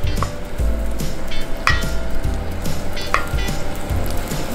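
About a tablespoon of butter sizzles in a hot pan of olive oil over medium heat, a steady loud frying hiss with scattered crackles and a few soft knocks of a utensil against the pan.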